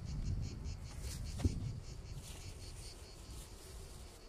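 Honey bees drone faintly around an open hive just after honey harvest, while pollen cake is being laid in; a soft continuous buzz with no talk, one brief knock partway through.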